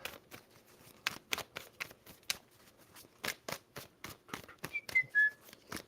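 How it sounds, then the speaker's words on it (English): Tarot cards being shuffled by hand, a run of crisp riffling bursts in quick irregular succession, close and fairly quiet, with a faint whistle near the end. "All right, 2 shuffles, Libra."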